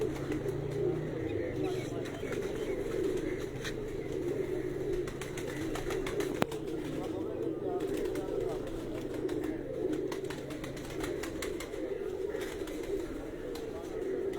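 Racing pigeons arriving at a loft during a Punjab pigeon-flying competition, with soft cooing and faint wing sounds under steady outdoor background noise, while someone talks over it.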